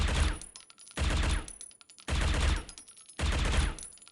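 An AUG rifle fires in the mobile shooter Critical Ops in four loud, close bursts of rapid automatic fire, each lasting about half a second, separated by brief pauses.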